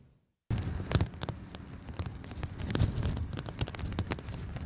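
Steady rain falls on farmland in far western Oklahoma, a dense, even hiss of drops that starts abruptly and continues without a break.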